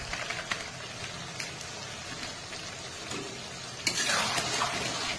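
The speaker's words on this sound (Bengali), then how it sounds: "এবার ভালো করে নেড়ে চেড়ে নেব।" Ground spices (salt, turmeric, cumin, Kashmiri chili and coriander powder) stirred into frying chicken skin in a pan, a steady crackling sizzle with scraping strokes that swell louder near the end, close by and without voices.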